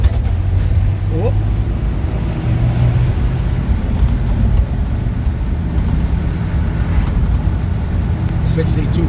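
A 1962 Corvette Roadster's engine drones steadily and loudly from inside the car on a test drive, with wind and road rumble blended in throughout.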